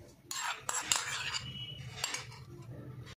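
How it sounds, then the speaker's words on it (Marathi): A spoon clinks and scrapes against a bowl while dhokla batter of gram flour is mixed with garlic slices, chili and cumin; the contact sounds are close and irregular, with no talking. "आपण मिक्स करून घेऊया।"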